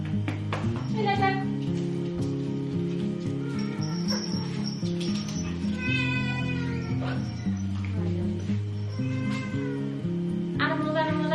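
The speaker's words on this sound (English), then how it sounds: "Uh-oh, Luna's cat coming" A pet cat meows repeatedly, with several drawn-out cries spaced through the stretch, heard close over a constant household hum and a few quiet voices.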